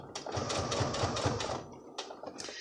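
A sewing machine stitches in the ditch along the seam of a garment waistband, giving a close, steady mechanical whir with a rapid rhythmic needle beat that pauses briefly and then restarts.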